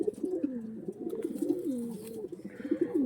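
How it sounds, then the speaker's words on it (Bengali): Pigeons coo close by in soft, repeated rolling calls, several overlapping phrases with faint background noise. "একদম সুন্দর কোয়ালিটির পায়রা, দেখুন।"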